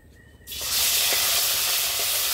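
Onion paste dropped into hot oil in a pan: quiet at first, then a sudden sharp sizzle that swells into a loud, steady hiss close by.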